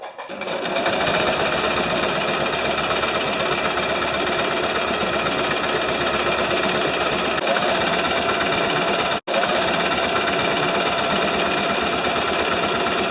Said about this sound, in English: I'm just going to hold it piece by piece as I sew the seams together